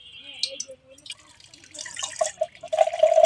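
Coconut water running out of a freshly opened coconut, trickling and dripping close by, becoming a fuller, steadier pour toward the end, with people talking over it at the start.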